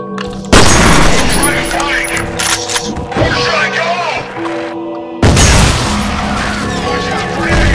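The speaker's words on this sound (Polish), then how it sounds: "Ktoś tam dostał granatem chyba." Grenade blasts and gunfire in the first-person shooter F.E.A.R.: two loud explosive bursts, one near the start and one about two-thirds through, with crackling, clattering combat noise between them.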